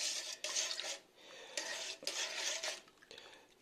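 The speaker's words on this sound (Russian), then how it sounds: "Вот мы взбили наши яйца с молоком" Eggs and milk are whisked in a bowl, giving quick, rhythmic scraping strokes in short bursts with brief pauses between them, close and fairly quiet.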